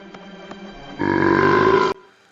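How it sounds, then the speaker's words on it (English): A cartoon character from a Tom & Jerry movie lets out one loud, drawn-out burp lasting about a second, preceded by a couple of brief thuds, with no talk over it. "So Jerry launches himself up towards Joe and burps him."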